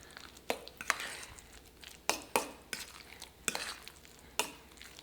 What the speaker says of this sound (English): So I'm just going to stir all this up.